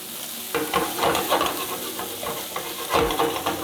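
Shrimp sizzle in Cajun butter in a pan while being stirred, a close, steady frying hiss broken by a few bursts of scraping and crackle.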